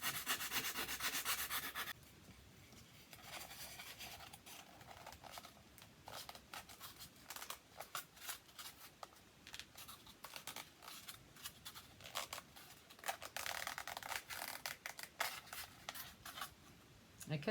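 Styrofoam light surround being trimmed to fit, soft dry rubbing and scraping strokes repeated close up, fairly quiet, with brief pauses between passes.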